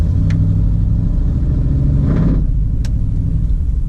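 Road traffic rumbles past nearby, a loud continuous engine drone that swells as a car goes by, with no talk.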